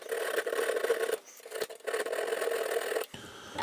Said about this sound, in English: right next to that prong, I like to file a little indentation